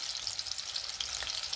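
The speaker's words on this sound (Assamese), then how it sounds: "আৰু এতিয়া মই আলুখিনি অলপ ৰঙা পৰাকৈ ফ্ৰাই কৰি ল'ম।" Potatoes frying in a pan, salted and cooking until lightly browned; a steady, close crackling sizzle runs continuously with small pops and no voices.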